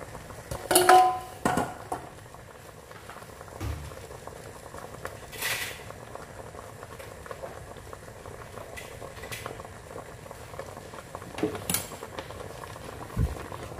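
Banana pieces simmering in jaggery syrup in a pan lined with banana leaf, a soft continuous bubbling with a few louder knocks and clatters near the start and end, no speech.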